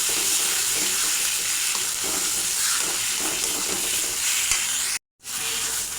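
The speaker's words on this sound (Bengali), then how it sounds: "এখন ভর্তাটা তেলে দেবো।" Mashed pumpkin peel fries in hot oil with a loud, continuous sizzle and hiss, mixed with stirring scrapes, and the sound briefly cuts out near the end.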